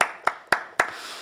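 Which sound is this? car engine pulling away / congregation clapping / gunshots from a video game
congregation clapping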